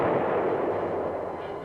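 Heavy gunfire from battling tanks, including M-60 tanks, and anti-tank guns gives a loud, close, sustained booming roar that rumbles continuously for under two seconds.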